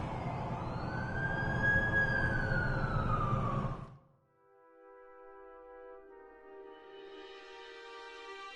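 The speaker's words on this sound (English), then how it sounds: "That's the ambulance I called." An ambulance siren wails in the Amazing Spider-Man 2 video game, a loud sweeping tone that cuts off suddenly, followed by softer tonal game music.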